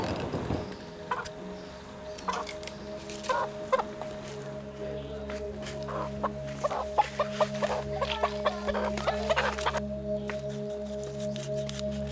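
A chicken clucks repeatedly in short bursts, close by, with quiet gaps and a low steady hum underneath.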